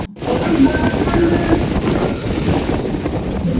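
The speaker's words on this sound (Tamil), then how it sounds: "காதெல்லாம் மண்ணை வந்து அடிச்சு காற்றுக்கு" Strong wind whips across Dhanushkodi beach, roaring steadily and buffeting the microphone close up for the whole stretch, with a low rumble of surf underneath.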